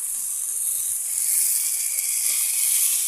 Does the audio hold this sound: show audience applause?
no